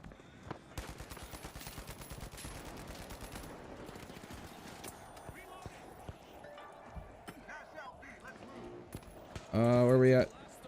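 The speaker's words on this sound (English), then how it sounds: "I've shot that man in the back so many times at this point because he keeps walking right in front of my shots" Rapid gunfire crackles in The Finals video game, dense volleys of close shots in the first few seconds that thin to sparser bursts later. A person talks over the shooting.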